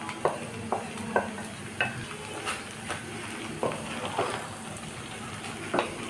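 Chira polao, flattened rice cooked with sugar, is stirred in a pan as pre-fried egg is mixed in, giving a soft frying sizzle under repeated scraping strokes of a spoon at an uneven pace.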